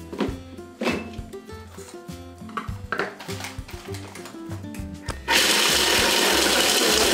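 A blender whirs in short bursts as it crushes biscuits for the base of a three-chocolate cake, pulsing and clattering at first, then settling into a loud, steady high-speed roar for the last couple of seconds.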